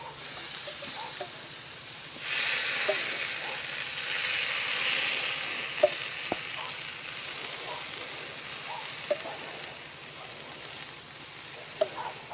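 Korean-inspired short ribs sizzle steadily in a hot pan while being basted, a constant frying hiss that swells partway through, with occasional soft clinks and no talking.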